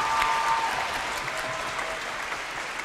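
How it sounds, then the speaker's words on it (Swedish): Audience applause in a concert hall during a performance, a steady wash of clapping from a large crowd. "En applåd!"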